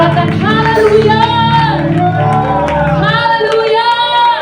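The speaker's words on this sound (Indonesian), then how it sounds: "Sorakan haleluya." A church congregation at a Sunday service shouts hallelujah together in a loud, dense swell of many voices, rising and falling in waves close by.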